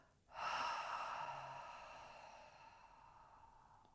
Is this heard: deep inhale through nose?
yes